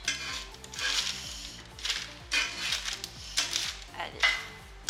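Metal spoon scraping and clinking against a pan while scooping out cooked onions, a series of irregular scrapes and taps close up, with faint sizzling beneath.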